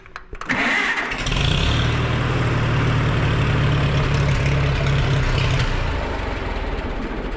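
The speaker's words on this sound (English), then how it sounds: "We're gonna start this thing. I'm gonna show you that the starter works just" On hay equipment, an engine starter cranks briefly, then the engine catches and settles into a loud, steady running drone that fades slightly toward the end. No one speaks.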